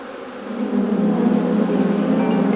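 Honey bees buzzing during a hive inspection, a dense, continuous drone of many insects close to the microphone that swells slightly and then holds steady.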